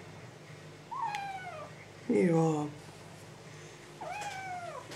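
A cat meows several times, with three distinct drawn-out mews spaced across a few seconds, close and fairly clear, as someone briefly speaks nearby.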